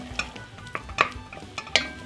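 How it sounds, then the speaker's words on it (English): Food with butter and herbs being stirred in a pot, with soft scraping and a few distinct metallic clinks of a spoon against the side, set over a faint sizzle. "Simply give it a stir."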